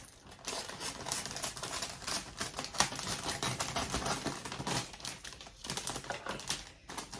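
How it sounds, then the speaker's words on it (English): Blunt scissors snip and strip plastic wrap from newly bought potted orchids, making a close, steady crackle of plastic with rapid clicky rustles that continue for several seconds, with no voices. "I'm going to start off by taking the plastic wrap off these guys"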